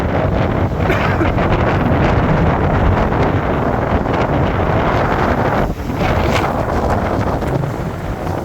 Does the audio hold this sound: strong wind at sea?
yes